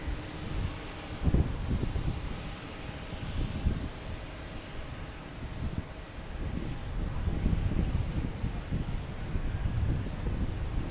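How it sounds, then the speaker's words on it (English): A JetBlue airliner takes off from Logan Airport bound for Los Angeles. A distant, steady engine roar builds gradually over several seconds, with some wind buffeting on the microphone and no voices. "JetBlue's taking off first. Heading to Los Angeles."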